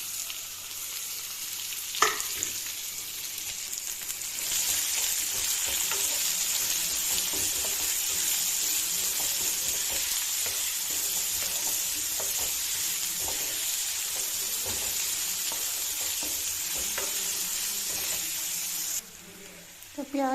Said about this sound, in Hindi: तो प्याज भुन गया है